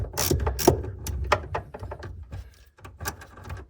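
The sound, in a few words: ratchet loosening battery terminal on Jaguar F-Type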